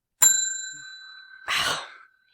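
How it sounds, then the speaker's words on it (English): A single bright bell ding rings out and slowly fades, followed by a breathy rush of noise, then silence. "Hate that bell."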